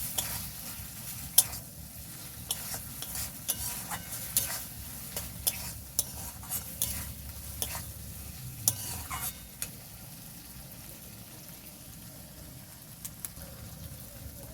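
Masala with hot and Kashmiri chilli powder stirred and fried for mourala fish teljhal, a low steady sizzle with frequent light scraping clicks of the spoon in the pan, quieter toward the end.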